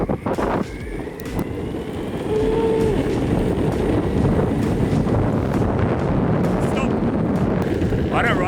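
A Stoke electric skateboard rolls along with a steady roar of wheels and wind buffeting the microphone, the noise swelling as the board gets up to speed and holding at a constant level.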